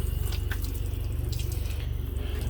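Water being applied to a warped, cupped wood board, a steady wet trickling and dripping with a low continuous hum beneath, fairly quiet and without voices.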